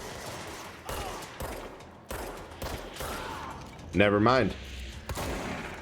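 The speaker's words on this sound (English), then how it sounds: "God, I love a good shotgun." A shotgun fires in the video game Control, giving several heavy blasts spaced through a busy stretch of combat noise. A voice speaks briefly over the action.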